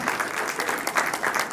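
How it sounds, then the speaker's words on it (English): Students and guests at a cultural day gathering in Kigali, Rwanda, give a sustained round of clapping, many hands at once, even and fairly loud throughout. "Are we not clapping for him?"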